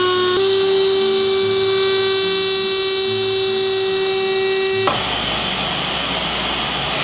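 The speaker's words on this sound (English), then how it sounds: "I touched up the surface of the wood using my disc sander" A disc sander hooked to a dust collector smooths the wooden surface of a pizza peel: a steady, close motor whine that turns into louder broadband grinding near the end, with no talking.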